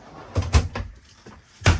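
Wide drawers in a 30-foot Class C Cruise America rental RV opened and shut, giving a few short knocks and slides with a double clunk early on and another sharp knock near the end.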